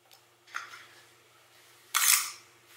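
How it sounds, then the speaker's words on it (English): Sony A7R2 mirrorless camera shutter firing with the electronic front curtain enabled: a faint soft tick, then one crisp, louder mechanical snap of the rear curtain closing and resetting, close up in a quiet room. "Now let's transition to turn the E-front curtain shutter on,"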